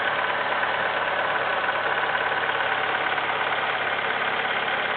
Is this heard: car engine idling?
yes